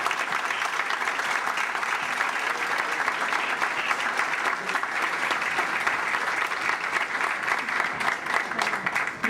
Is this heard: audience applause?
yes